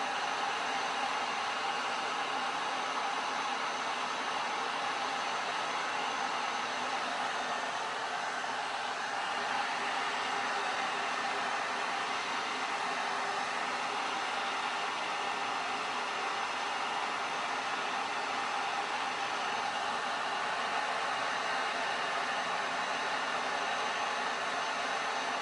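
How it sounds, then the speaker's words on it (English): A heat gun blows over a silk screen being burned, giving a steady, even, close rushing hiss that holds without a break for the whole stretch and has no talking over it. "the longer you hold your heat gun over it, the darker it gets"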